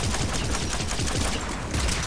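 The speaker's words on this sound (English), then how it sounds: "AA guns ahead of us." Anti-aircraft guns in the Mass Effect video game hammer away in a dense, continuous barrage of rapid overlapping shots, loud and steady, with no talking over the fire.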